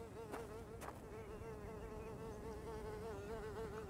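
Flies buzz steadily and close in the Better Late Than Dead video game, with a wavering drone that keeps on throughout and two brief sharp clicks near the start.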